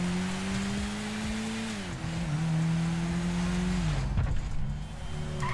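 A car accelerates in a PC driving video game played on a generic controller: a loud, steady engine drone whose pitch dips and climbs again, with a rougher burst near the end.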